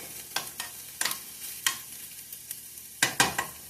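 Food cooking in a frying pan while omelets are being made, a faint sizzle under sharp, irregular utensil taps and scrapes against the pan, with a quick double clatter near the end.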